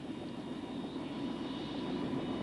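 A Bell OH-58 helicopter's turbine engine idles after start, a steady low whining drone with a faint hum, constant and moderately quiet.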